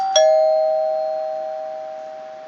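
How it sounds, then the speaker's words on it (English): A single clear chime comes from a homemade doorbell, struck once and then ringing on with a pure tone that slowly fades. The room is otherwise quiet. "We built a doorbell that rings once"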